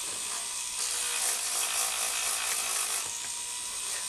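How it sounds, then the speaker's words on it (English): A wooden piece is sanded by hand with 120 grit sandpaper, giving a steady, close, dry scratching hiss that keeps going throughout with no voices. "Now I'm going to go back with my 120 grit and I'm just going to even it out."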